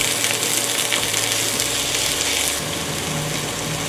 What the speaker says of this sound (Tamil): எண்ணெய் காஞ்சிருச்சு, வெங்காயத்தை போட்டுக்கிறேன். வதக்கிக்கோங்க.